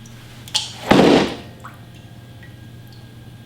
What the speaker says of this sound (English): See how the water rises when the rock sinks down.